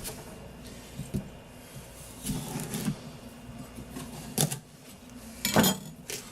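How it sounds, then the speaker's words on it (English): A kitchen knife hacking into a whole pumpkin to split it open, several sharp, separate chopping thuds and cracks spaced a second or so apart, close and fairly quiet, with no talking. "I am just going to chop this sucker open"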